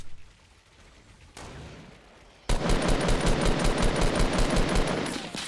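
Fortnite Battle Royale gunfire: after a quieter opening, loud rapid shots ring out in a dense, continuous rhythmic burst that lasts to the end.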